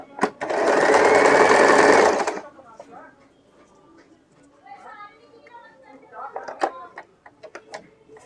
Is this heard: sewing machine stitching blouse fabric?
yes